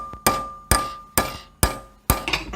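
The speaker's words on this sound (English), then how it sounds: "smack it with a hammer at the same time" Five sharp metallic hammer strikes on a Bestop tension cable land at an even, steady pace, each ringing briefly before the next; the last blow is followed by a few quick rattles.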